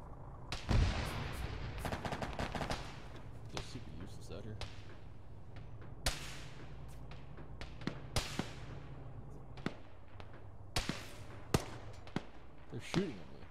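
Gunfire in the Arma military video game during a ShackTac infantry and tank battle near a bridge, scattered sharp cracks and bursts, some near and loud, others distant, spread irregularly over a low rumbling background.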